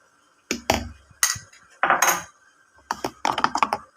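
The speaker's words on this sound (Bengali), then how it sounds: "এখন আমি এরকমভাবে ঘুটে নিচ্ছি, ভালো করে সব কিছু ভালো করে মিশিয়ে নিচ্ছি" A spoon clinks and rattles against a glass while stirring sugar into a yogurt lassi, in several short bursts of sharp metallic taps with brief pauses between, close and fairly loud with no talking.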